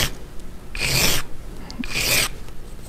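Two rough rasping strokes of a file bevelling the leading edge of a model rocket's fin, each stroke lasting about half a second, close and fairly loud with a short pause between them.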